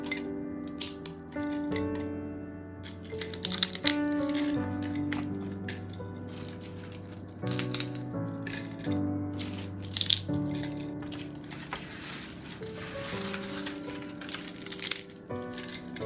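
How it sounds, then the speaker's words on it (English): Dried sourdough starter snapping and clinking as it is broken up and dropped into a glass jar, a series of irregular crisp cracks and glassy rattles over soft background music. "I've already started breaking it up and putting it into my glass jar here"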